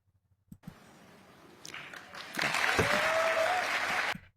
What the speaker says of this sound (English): That gets a round of applause.